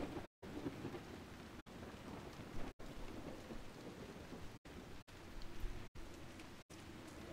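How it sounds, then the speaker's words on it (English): Steady rain with rumbling thunder, loud and continuous, broken by several abrupt dropouts where the sound cuts to silence for a split second, giving a glitchy, stuttering texture. "With the glitchy rain audio."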